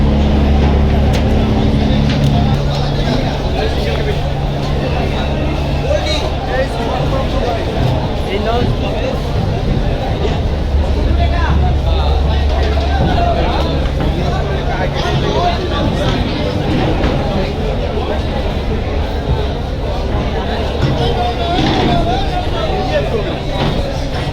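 Crowded Barisal river launch terminal after Eid, with a constant murmur of many voices, low engine drone of moored passenger launches, and occasional horn-like tones, a busy dense wash of crowd and vessel noise throughout.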